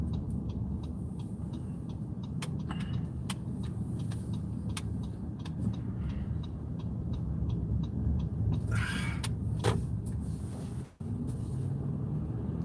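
A car driving along a rural cut-through road past farmland gives a continuous low engine and tyre rumble heard from inside the cabin, with faint clicking and a brief dip near the end.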